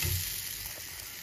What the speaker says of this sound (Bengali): আমরা এটাকে ভালো করে শুকনো শুকনো করে নেড়ে চেড়ে করে নেব